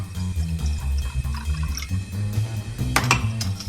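Water poured into a pan of sugar for caramelizing, a short splashing trickle with dripping and a brighter clink near the end, heard close over a low background hum.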